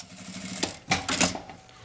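Short burst of a domestic sewing machine stitching a fabric strip, a close, quick rattling whir that pauses briefly and resumes, with no talk.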